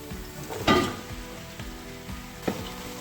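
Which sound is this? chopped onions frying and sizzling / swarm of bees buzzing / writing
chopped onions frying and sizzling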